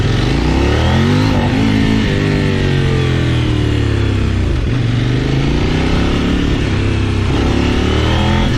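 A KOVE 800X adventure motorcycle at full throttle, its engine rising in repeated revving sweeps, cutting back and climbing again in a loud, close, continuous roar with no voices.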